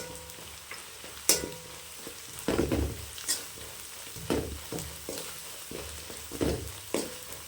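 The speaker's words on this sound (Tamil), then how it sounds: "நல்லா இந்த வெங்காயம் வதங்கி வரட்டும்." Onions sauté in a pan with mutton and curry masala, giving a low steady sizzle broken by repeated stirring scrapes and clatters at an uneven rhythm, close and moderately loud with no talking.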